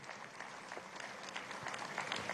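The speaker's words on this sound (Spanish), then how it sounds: "Aplausos para Colombia y su uniforme." Audience applause at a baseball game between Colombia and Puerto Rico, heard as a steady wash of clapping from a crowd, moderately distant and continuous with no clear individual claps.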